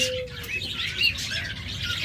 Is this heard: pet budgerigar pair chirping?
yes